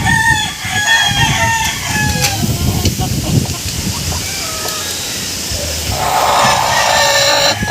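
Pure John Bishop Kelso gamefowl chickens clucking and crowing loudly and close by in a farm coop, with calls repeating throughout and a person talking over them.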